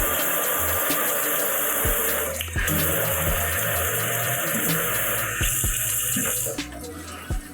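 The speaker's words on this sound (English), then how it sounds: "we grab these, rinse them out real good, separate them" A kitchen tap runs steadily as vegetables are rinsed under it, a loud, close, continuous water rush that briefly dips and shifts as hands move items through the stream.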